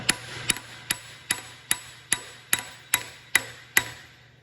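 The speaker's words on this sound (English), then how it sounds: "I'm going to tap the race now, so it catches up" Sharp metallic hammer taps strike a bearing race on an Allis Chalmers WD tractor shaft at an even pace, about ten blows in a row, each ringing briefly before the next.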